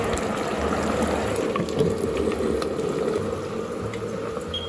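Potato fries bubble and sizzle in hot frying oil on a home stove, a steady, close, dense crackling seethe with no talk.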